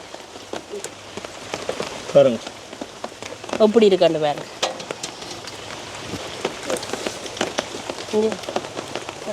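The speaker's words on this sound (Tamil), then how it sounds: "மழை வந்துட்டேலோ" Steady rain patters on a surface, with a person speaking over it in short bursts.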